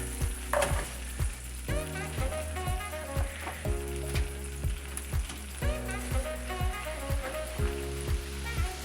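Butter, onions and celery fry in a pan over medium-high heat, giving a steady close sizzle with regular stirring scrapes and clinks throughout.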